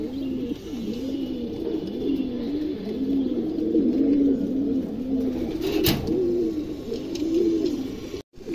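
Pigeons in a home loft cooing continuously, a steady rolling chorus of low throaty coos repeating close by, with a brief sharp knock near the end.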